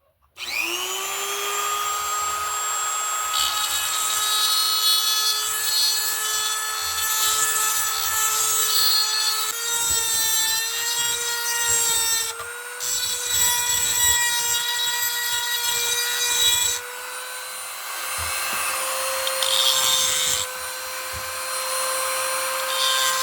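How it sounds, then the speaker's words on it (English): A Dremel rotary tool with a grinding bit bores out a section of wood, a loud sustained high-pitched whine that shifts in pitch as the bit bites and eases off, close and continuous. "We're going to use a Dremel tool with a grinding bit on it, and we're just going to bore this section out here"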